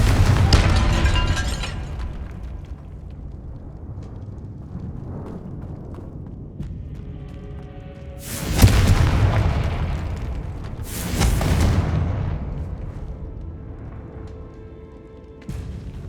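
Confringo fire spells exploding in the Hogwarts Legacy video game, a loud booming blast at the start followed by two more heavy explosions with rumbling tails, no talk.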